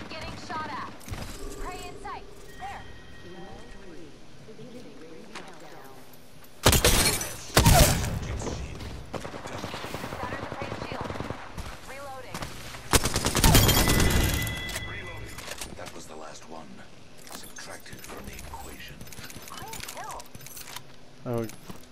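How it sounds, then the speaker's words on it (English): Bursts of automatic gunfire in the battle royale shooter Apex Legends, two loud close fusillades amid scattered distant shots, clinking gear and game effects, with a voice talking now and then. "Getting shot at."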